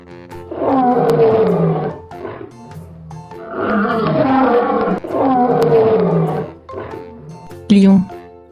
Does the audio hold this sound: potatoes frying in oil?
no